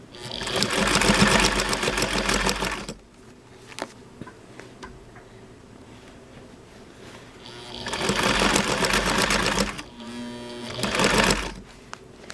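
A sewing machine stitches in loud, steady mechanical bursts, driven by either a hand crank or a motor. One long run is followed by a quiet pause, then two more runs separated by a brief stop.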